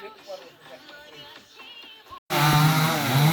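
Soft talking and light knocks give way to a loud, sudden saw cutting firewood in a village, its motor buzzing steadily up close.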